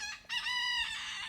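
Rooster crowing nearby, a single loud cock-a-doodle-doo call of just over a second, heard on its own.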